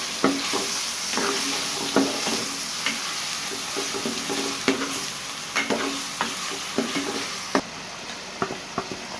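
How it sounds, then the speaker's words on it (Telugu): Washed raw chicken pieces hitting hot oil in a pan for chicken bagara semiya, a steady close sizzle broken by sharp scraping stirs and clinks of a spoon against the pan, with no talking. "ఇప్పుడు వాష్ చేసుకున్న చికెన్ వేసుకుందాం."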